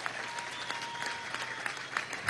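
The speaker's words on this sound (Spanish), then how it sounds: "Vamos a darle un aplauso a toda Venezuela desde Pampanito." Audience applause at an outdoor government housing handover event in Pampanito, Trujillo, Venezuela, steady dense clapping from a crowd with scattered louder claps, sustained throughout.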